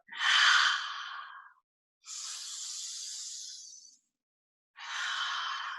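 Three slow, deep breaths during a guided meditation, each a long airy inhale or exhale lasting over a second, separated by short silences, close and fairly soft with no talking.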